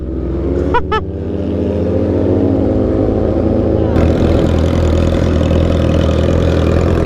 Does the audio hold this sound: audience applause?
no